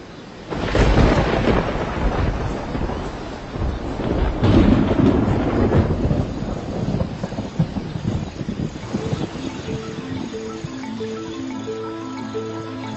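Summer thunderstorm in Kruger, with heavy rolling thunder rumbling loudly at first and again midway over steady rain, then easing into a quieter wash of rainfall.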